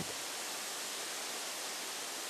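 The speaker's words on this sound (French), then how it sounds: "la rivière du Hérisson qui glisse sur la pierre calcaire et chute en formant une multitude de cascades" Water from the Hérisson river cascading over limestone ledges in the Jura plateau, a steady broadband rushing roar that fills the short stretch evenly, with no voices.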